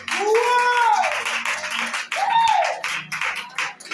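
Church congregation clapping and cheering during a service, dense applause with voices rising over it in two swells, close and loud throughout.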